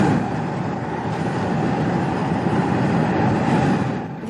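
The burner of a 75-foot-high hot air balloon blasts a leaping jet of gas, making a steady, loud, close roar that holds evenly throughout.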